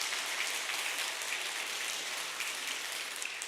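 Church congregation applauding to welcome a first-time visitor during a Korean Presbyterian Sunday service, a steady dense wash of clapping from many hands filling the room, with no talk over it.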